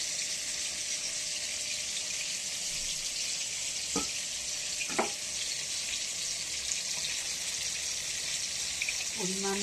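Tomato fries in a pan with a bright, continuous sizzle, close and even, with a few brief clinks and a short voice near the end.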